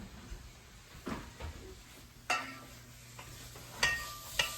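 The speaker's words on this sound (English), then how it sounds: "As you can hear, it's starting to fry now" Soft sizzling of bacon frying in a pot, with a few scraping and clinking stirs against the pot, quiet and intermittent.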